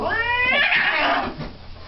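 An angry cat at a veterinary clinic lets out a loud, drawn-out caterwauling yowl that rises and wavers before breaking off into a rougher growling tail.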